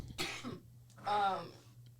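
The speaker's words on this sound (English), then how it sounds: "I can't stop coughing." Two harsh, raspy coughs close to the mic, separated by a brief pause, with a low hum underneath.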